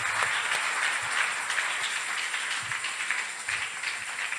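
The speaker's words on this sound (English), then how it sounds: "you can clap unto the Lord." Congregation clapping during a church service, a steady wash of many hands applauding together at a moderate distance, continuous for the whole stretch with no voices.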